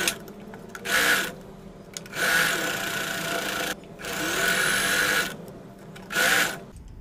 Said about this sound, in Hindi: यहाँ से सिलाई लगा देनी है, एकदम किनारे से लगानी है सिलाई